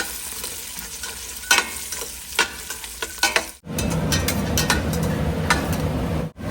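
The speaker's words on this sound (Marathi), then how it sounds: "आणि हे पण काजू घालूया. आपण आधी हे छान परतून घेऊया." Blanched almonds and cashews stir-fried in a pan, a close sizzle with repeated spatula scrapes and clicks that swells into a fuller, louder frying roar after a brief pause.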